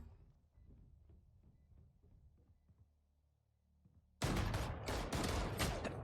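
Rapid burst of loud gunfire from the video game Valorant erupts suddenly after a stretch of quiet low rumbling and muffled game ambience, the shots dense and close for the last two seconds.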